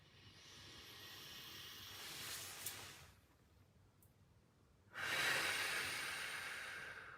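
Deep breaths during a guided breathing exercise: a long airy inhale-like hiss for about three seconds, a quiet pause, then a stronger, louder breath rushing out, close and alone without talk.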